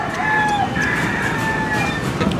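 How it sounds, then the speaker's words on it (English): Chickens held in boxes aboard a passenger boat cluck and crow in drawn-out calls over a loud, constant engine rumble and background noise. "There's chickens in these boxes."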